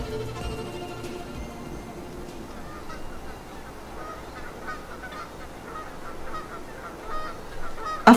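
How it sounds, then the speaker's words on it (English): A flock of geese honks loudly and repeatedly, with overlapping nasal calls that come close and continue throughout, and no one talks over them. "A flock of geese are soaring through the beautiful blue sky"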